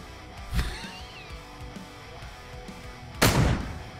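Two loud, separate sniper rifle shots in the Pummel Party party game, sharp, close reports a few seconds apart over a quiet game backdrop, without talk.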